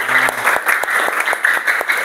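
A classroom of students applauds steadily, with a dense, continuous patter of many hands clapping close by for the whole stretch and no pause.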